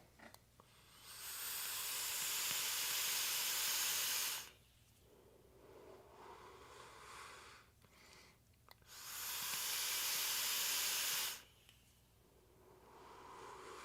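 Two long breathy hissing draws through a Hellvape Passage RDA with airflow wide open, a 0.12 ohm build at 75 watts, each lasting a few seconds, close and soft, with quiet exhales between.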